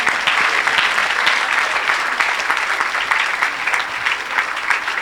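A church congregation claps loudly and steadily throughout during a worship service, a dense sustained wave of applause with no break.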